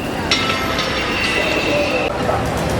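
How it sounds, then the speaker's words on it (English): An old tram carrying tourists in Tokyo's Shibuya area rumbles along with steady rail noise, a high squealing tone and faint clacks, heard up close from inside the car with no voices. "Trains have been around for a long time. This is a tourist association in an old tram."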